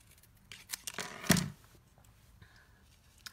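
Snips cutting paper for a snowman card, a few short crisp snipping strokes up close culminating in one louder slicing cut, then quiet handling sounds.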